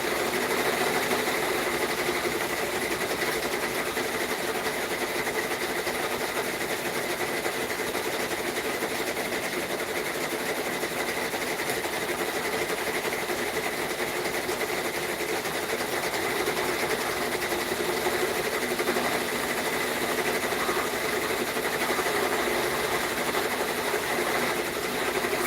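Two embroidery machines stitching orders in a home workspace, their rapid needle chatter a constant, even mechanical drone that never lets up.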